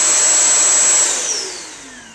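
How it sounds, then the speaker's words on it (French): A Bissell Crosswave wet-dry floor cleaner set to rug mode runs with a loud, steady vacuum-like whine and roar that holds for a second, then winds down with a falling pitch. "vous avez vu que c'est quand même un petit peu bruyant, hein, c'est aussi bruyant qu'un aspirateur classique"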